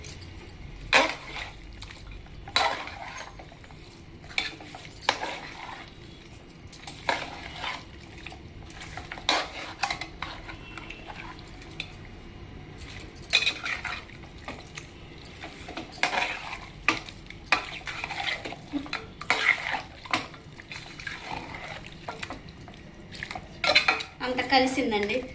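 Mutton curry with crushed pepper is stirred and mixed in a pot, a run of irregular metallic clinks and scrapes of a spoon against the vessel over a faint background sizzle.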